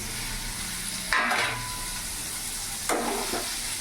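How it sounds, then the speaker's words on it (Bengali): Soybean chunks dropped into hot oil, sizzling steadily and faintly, with two louder bursts of frying hiss as pieces hit the pan or get stirred, and no talking. "এবার এই তেলের মধ্যে আমি সোয়াবিনগুলোও ভেজে নেব।"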